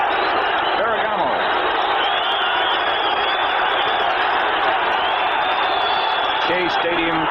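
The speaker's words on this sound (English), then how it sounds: "Shea Stadium crowd comes to their feet" A large football crowd at Shea Stadium rises in a sustained, loud cheer, a broad steady roar with whoops running throughout.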